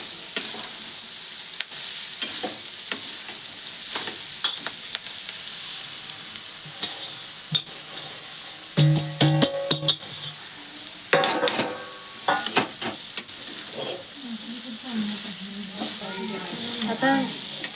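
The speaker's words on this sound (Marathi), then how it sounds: "हलवून घ्यायचं." Leftover bhakri pieces fry in a pan while being stirred, giving a continuous sizzle broken by sharper clatters of the spoon against the pan and brief louder bursts midway, with no voices.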